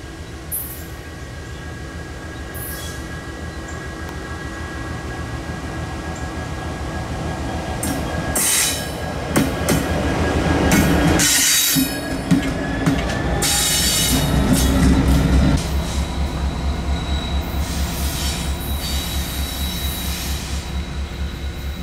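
Locomotive IC-1034 runs alone, long hood forward, hauling an ore train on the Bessemer & Lake Erie, with a steady diesel drone and rolling rail noise, sharp wheel squeals and clanks building midway, then a continuing rumble.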